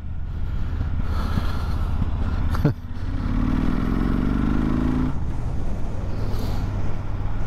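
A Kawasaki VN15 cruiser motorcycle rumbles steadily while riding, a deep engine drone close by with a brief rising rev in the middle and wind noise throughout.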